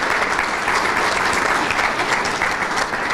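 A quick round of applause rises from the audience at the Chautauqua Lake Symposium, a thick, continuous patter of many hands clapping at a steady, fairly loud level throughout.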